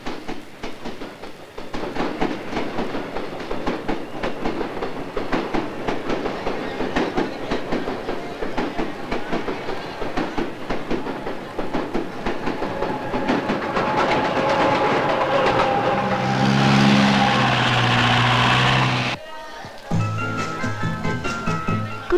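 A train rolls into a railway station with steady clickety-clack of wagons on the rails, building to a loud whistle blast near the end before the rumble resumes.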